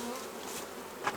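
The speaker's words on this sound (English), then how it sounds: "There's a lot of bees in there." Feral honeybees buzzing inside a hollow, a faint, continuous close-up hum with a brief louder buzz near the end.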